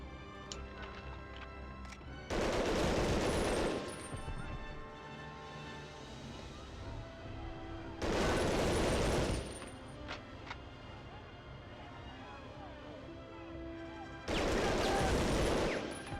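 Gunfire from the World War II shooter Medal of Honor Underground comes in three loud, dense bursts of rapid shots, each lasting about a second and a half, separated by quieter stretches of game ambience.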